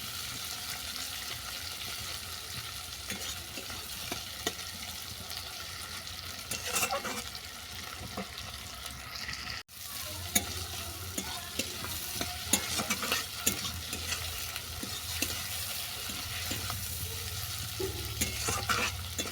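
Fried ingredients for a spinach and prawn dal sizzle in a pan while being stirred, a steady close frying hiss broken by scraping and knocks of the spoon against the pan, with no talking.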